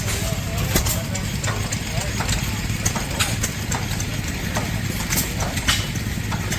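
An Aermotor stationary engine with a fluted hopper runs steadily at an engine show, its low, even chugging continuous and close, with faint voices mixed into the background.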